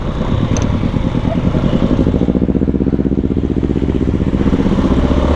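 A Yamaha Mio scooter engine runs steadily and loudly close by, with a continuous rough buzzing drone and no clear rev spikes, as a wheelie is attempted at a house entrance.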